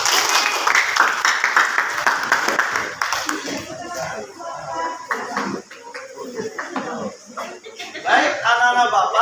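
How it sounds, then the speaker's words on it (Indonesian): Schoolchildren in a classroom clapping their hands in bursts along with a chanted action song, close and lively, with voices singing and talking over the claps. "Tepuk tangan buat kita"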